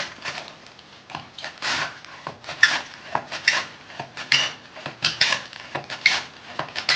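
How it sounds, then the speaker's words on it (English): Cabbage sliced on a Chinese mandolin with a razor-sharp spinning blade, giving a steady run of quick, close rasping strokes in an even rhythm, with no voices. "I'm going to use a Chinese mandolin because it gets nice consistent slices."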